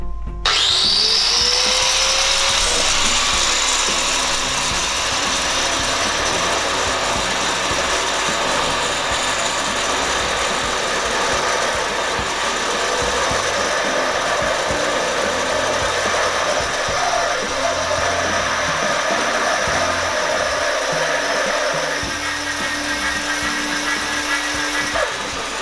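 An angle grinder spins a wheel up toward 12000 rpm, a loud steady high whirring whine that rises at the start and holds continuously for the whole stretch with mechanical rattling underneath.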